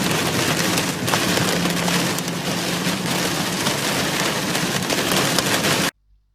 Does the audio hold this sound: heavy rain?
yes